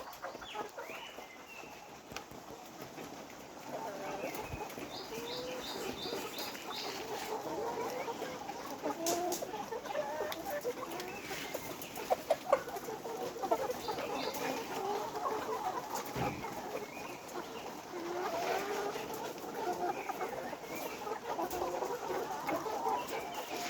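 Many layer hens nearly ready to lay cluck and murmur continuously at moderate distance, a busy flock chorus with occasional sharper calls rising above the background.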